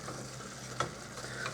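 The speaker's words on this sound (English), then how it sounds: "we're going to get this frying" Quiet, steady sizzling of onions frying in a pan, with a few faint stirring clicks.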